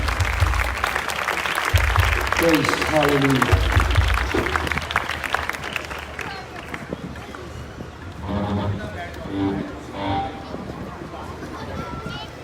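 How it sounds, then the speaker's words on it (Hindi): Loud applause from a church congregation at a revival worship festival, a dense sustained clatter of clapping that fills the opening seconds, then thins as a voice speaks over it. "आइए खुदा के खादम के लिए जोरदार तालियां बजाएं।"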